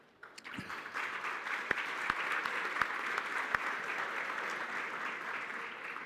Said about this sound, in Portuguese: Vocês batem palmas